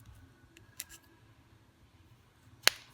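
Scissors snipping artificial nail tips during a dip powder French manicure, two crisp cuts well apart, close but faint over a quiet room.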